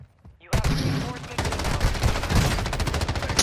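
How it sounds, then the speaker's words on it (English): Minigun fire in Call of Duty Warzone on Ashika Island, a loud sustained stream of rapid-fire gunshots starting abruptly, close and dense, with game sounds and voices mixed in. "Look how many times I shot him."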